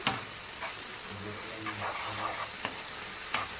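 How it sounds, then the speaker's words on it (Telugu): Gongura leaves fry in a pan on a low flame with a continuous soft sizzle, interrupted every so often by a spatula scraping and tapping the pan, heard up close with no talking. "ఈ విధంగా చక్కగా అడుగంటకుండా మాడకుండా లో ఫ్లేమ్లో చక్కగా ఫ్రై చేసుకోవాలి"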